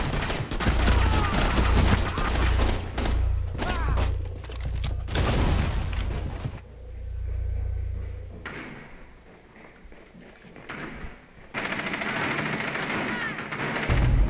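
Rapid bursts of close, loud gunfire in Rainbow Six Siege at Hereford Base during a hostage team deathmatch, heavy volleys in the first seconds, then a quieter lull before shooting resumes.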